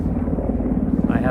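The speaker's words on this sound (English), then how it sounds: "a helicopter flying overhead" Helicopter passing overhead outdoors during a lecture, a steady low rotor drone with rhythmic chop, fairly loud and continuous beneath the setting.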